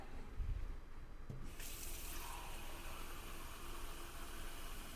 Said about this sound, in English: I'm going to fill this lip with water.